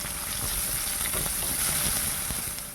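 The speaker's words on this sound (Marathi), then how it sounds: "यानंतर आता 1 मोठा चिरलेला कांदा घेतलेला आहे तो टाकूया." Chopped onion fries in spiced oil for a bitter gourd stir-fry, a dense, even sizzle with a hissy wash throughout and no talk.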